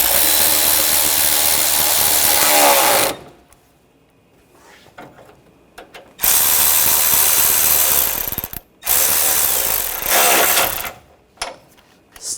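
Bumper bracket bolts on a 2004–2008 Ford F-150 are driven tight with a powered ratchet, giving loud whirring bursts of several seconds each, separated by short pauses.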